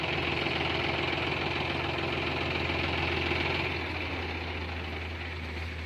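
A 42 HP tractor engine runs steadily nearby with a loud, continuous diesel rumble and knock that eases off slightly toward the end.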